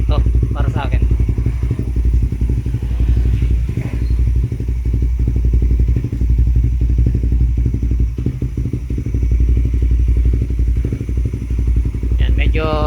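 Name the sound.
Raider 150 Fi motorcycle idling with replica Pro GP exhaust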